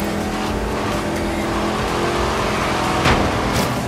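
A Range Rover races in Forza Horizon 3 on a Hot Wheels track, its engine a loud, steady drone with continuous road and tire noise and a brief swell near the end.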